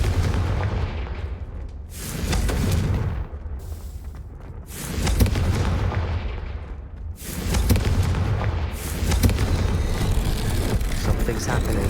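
In the video game Hogwarts Legacy, a Confringo spell blast goes off as several heavy booming explosive bursts with rumbling low tails, loud and close, with a voice speaking between them.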